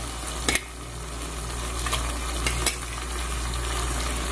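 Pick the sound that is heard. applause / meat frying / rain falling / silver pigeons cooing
meat frying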